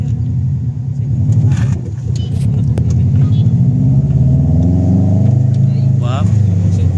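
Subaru Blobeye revving up from low to mid range, a steady rumbling engine tone that rises in pitch toward the end, with a voice talking briefly over it.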